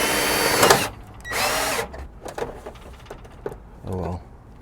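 A power drill drives screws into a gutter guard in short whirring bursts, two long runs and then a brief final one, with faint knocks and handling noises in between.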